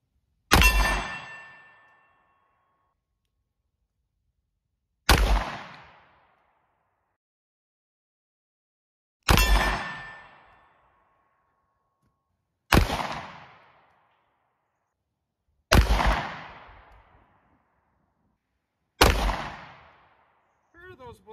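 Six sharp pistol shots from a Glock 43X MOS, spaced a few seconds apart, each a loud crack with a short decaying tail and silence in between.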